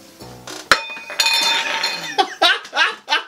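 Glass-bottomed tankards in a tavern setting clink together, first a sharp ringing knock, then a sustained bright chime and several quicker rattling clinks, close and fairly loud.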